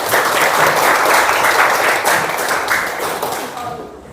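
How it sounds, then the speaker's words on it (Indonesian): Applause from a group at a morning school gathering, dense steady clapping that stays loud through most of the stretch, then thins and fades out near the end. "Tepuk tangan untuk kita semua."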